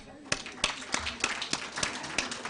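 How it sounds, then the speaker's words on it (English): Sharp, evenly spaced claps ring out about three times a second at a World Breastfeeding Week 2023 gathering, forming a steady rhythmic round of audience applause over faint background murmur. "A mighty hand of applause"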